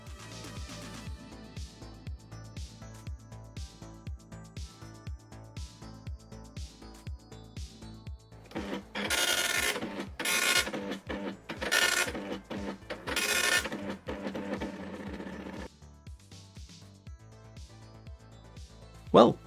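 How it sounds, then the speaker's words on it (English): A Commodore MPS 803 dot-matrix printer at work, first a rapid buzzing chatter of the print head in steady bursts, then louder mechanical rasping line feeds and carriage moves, close and clear with a little talk. "Now, if we want to print this, we go back to command mode, press P and then return"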